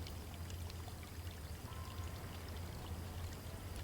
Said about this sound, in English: can we pour water on him now?